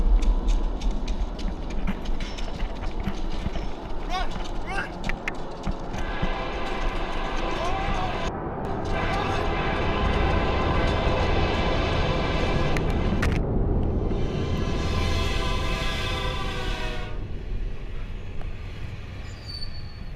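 A train roars past continuously through a tunnel, a loud rushing rumble with rattling and a rising high screech, echoing in the enclosed space.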